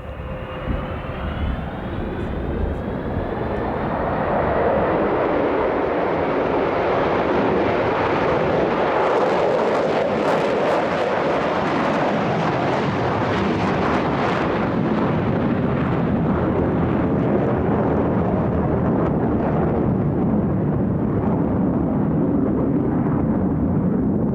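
A Concorde jet airliner roars in, its engine noise swelling from a distant whine to a loud, sustained thunderous rumble that fills the air.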